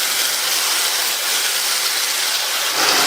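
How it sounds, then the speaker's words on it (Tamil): Ground masala paste hits hot oil in a pan on the stove, giving a loud, steady, broadband sizzle and hiss that stays constant throughout, with no voices. "அடுத்து இதுல நம்ம அரைச்ச அந்த மசாலாவை சேர்த்துக்கலாம்."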